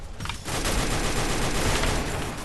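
Heavy, sustained automatic gunfire from an M249 light machine gun in the battle-royale game Free Fire, a dense continuous burst filling the whole stretch after a brief quieter start, loud and close with no talking.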